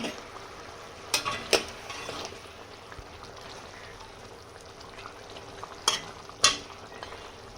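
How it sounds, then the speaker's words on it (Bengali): Tangra fish dropped into boiling gravy for tel jhal, a steady soft bubbling simmer with a few sharp clinks of a utensil against the pan, no voices. "ঝোল ফুটে গেছে, এবারে মাছগুলোকে দিয়ে দিলাম।"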